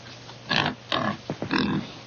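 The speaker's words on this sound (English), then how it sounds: "Nice pig." A pig grunts and oinks close by in several short, rough bursts with brief pauses between them, and no one talks over it.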